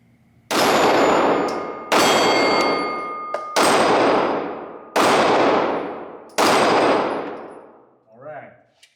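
Five loud Glock 43 pistol shots fired at a paper target at a range, spaced about 1.5 seconds apart, each with a long ringing decay.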